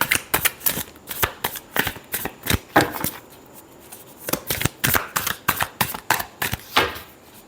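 Tarot cards are shuffled by hand in brisk riffling bursts, a steady run of sharp papery flicks close up, pausing briefly midway before continuing, with no talking.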